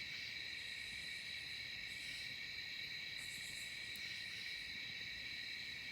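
A dense chorus of crickets trills continuously at night at a riverside campsite, faint and even, with a soft background hiss and no one speaking.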